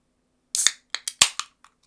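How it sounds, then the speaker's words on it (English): A drink can is cracked open nearby, a sharp pop and hiss followed by a few quick clicks and taps, loud against a quiet room. "Who's just opened a can?"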